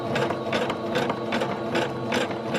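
A sewing machine runs a zigzag stitch along the edge of a battle jacket, close and steady, its rapid mechanical clatter pulsing in short even bursts with no voices.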